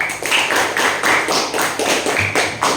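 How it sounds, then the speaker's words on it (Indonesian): Classmates clap for a student group that has just presented, a close, loud burst of rhythmic claps with a regular pulse, and no voices over it. "Tepuk tangan buat kelompok 2"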